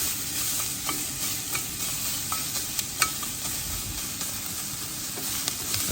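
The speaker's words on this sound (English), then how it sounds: "Some onions kind of cook." Onions frying in a pan at a winter campsite, a steady close sizzle with scattered pops and a few utensil clicks throughout.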